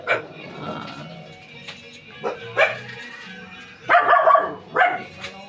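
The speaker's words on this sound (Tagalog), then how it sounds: "Kasi maraming aso dito, kaya tumatahol siya." A dog barks several times in short, uneven bursts, some yippy and whiny, fairly close, with a person talking faintly in between.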